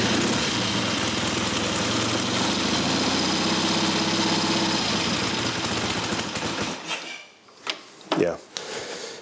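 A classic Triumph Tiger motorcycle engine, needing carburettor adjustment, runs loud and steady at idle close by for most of the clip before cutting out into clanks and workshop noise.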